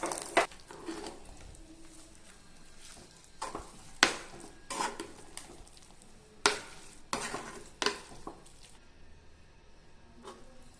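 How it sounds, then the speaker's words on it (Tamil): Mustard seeds, cumin, dried chillies, chopped garlic and curry leaves are stirred in hot ghee and oil in a pan for sambar rice: repeated sharp scraping strokes over a light sizzle, close and fairly quiet, with no talking. "கருவேப்பிலை எல்லாத்தையும் இப்போ இதில் போட்டு கிண்டி வைக்கணும்"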